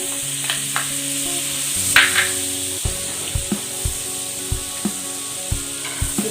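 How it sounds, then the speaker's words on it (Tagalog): Butter sizzles and fries in a hot pan, a steady crackling hiss with a run of regular soft knocks and scrapes as it is stirred, close and clear with no talking. "mainit na ang ating kawali. Lagay na natin ang butter."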